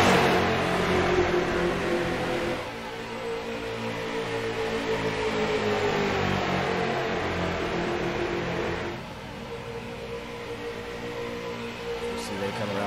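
Street stock race cars lapping a track, a steady engine drone that rises and falls as the pack passes, with the level dipping near the end.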